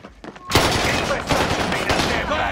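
Rapid bursts of automatic gunfire in the Warzone video game erupt after a brief quiet moment, dense and loud, continuing as overlapping volleys.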